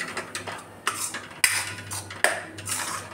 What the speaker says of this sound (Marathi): आता आपण हे सगळं व्यवस्थित मिक्स करून घेणार आहोत